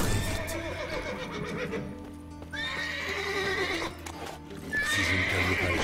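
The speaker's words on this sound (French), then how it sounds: "Si je ne calme pas les chevaux, comment réveiller les gardes?" Horses in a stable in the video game The Witcher 3, several whinnies and snorts over shuffling hoof clops, fairly close and restless, with no talk.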